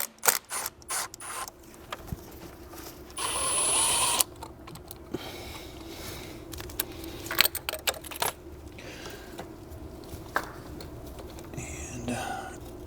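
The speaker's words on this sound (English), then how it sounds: "I'm going to loosen the T30 for the turbo inlet pipe" A ratchet loosens a Torx T30 bolt on the turbo inlet pipe of a Mk7 Volkswagen GTI during an IS38 turbo swap: close, rapid pawl clicking in short bursts, mixed with clinks of metal and tool handling and some faint talk.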